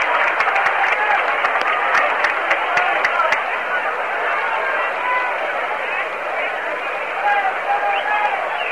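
A baseball stadium crowd roars in reaction to a good catch by an outfielder, a broad, sustained wash of cheering and applause with scattered claps near the start, filling the whole stretch at steady loudness.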